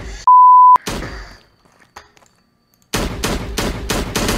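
Gunfire in the EddsWorld video game. A short electronic beep and a few scattered thumps come first, then a rapid, loud burst of repeated shots fills the last second and a half.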